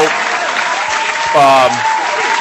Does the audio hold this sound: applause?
yes